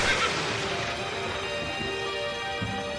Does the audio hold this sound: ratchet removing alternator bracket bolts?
no